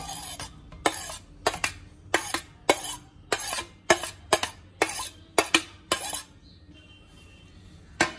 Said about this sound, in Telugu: తర్వాత ఇవన్నీ కలిపి ఒక దగ్గర మిక్స్ చేసుకుందాం.